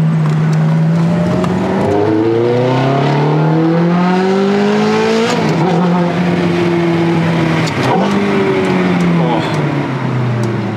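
A Ferrari sports car engine revs loudly up and down through several gear changes, a continuous close roar that rises, drops and climbs again.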